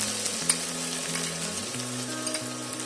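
Chopped onion and garlic fry in a pan with a steady, close hiss and a few faint stirring touches. Low sustained tones hum quietly underneath.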